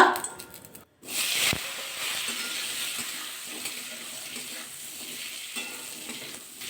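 Elephant foot yam pieces frying in hot mustard oil with nigella seeds, a steady close sizzle and hiss with faint stirring scrapes, after a brief pause near the start.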